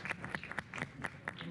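Audience clapping for a panelist walking onto the stage at a payments conference forum, a brief, fairly faint spatter of applause in a hall.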